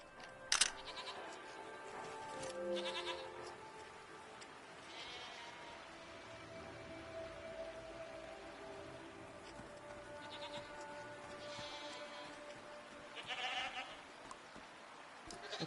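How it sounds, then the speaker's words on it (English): Goat-like creatures bleating in the video game Season: A Letter to the Future, scattered faint bleats spaced out over a quiet outdoor ambience. "What are these strange goat-like creatures?"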